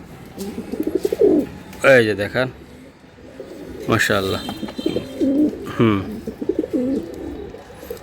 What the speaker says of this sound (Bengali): দুইটা কবুতর দেখেন খুবই সুন্দর, ডাকবো মানে এই যে কঠিন ডাকা ডাকবে